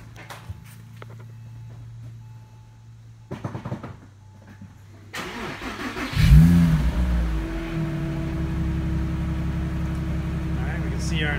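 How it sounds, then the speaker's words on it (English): A Porsche Boxster 986 engine cranks and catches partway through, then runs with a steady, loud, close rumble after a few quiet clicks and handling noises. "So let's fire it up and test it out."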